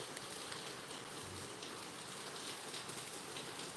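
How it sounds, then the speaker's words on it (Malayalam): Steady rain pours down in an even, dense hiss that carries on without a break, with no voices over it. "വീണ്ടും മഴ വീണ്ടും സ്റ്റാർട്ട് ചെയ്യണ പോലെ ഉണ്ട്"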